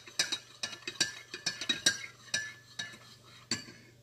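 Spoon stirring sugar into café con leche in a cup, a quick series of about a dozen light clinks and scrapes against the cup, close and quiet with no talk.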